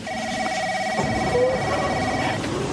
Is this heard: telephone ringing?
yes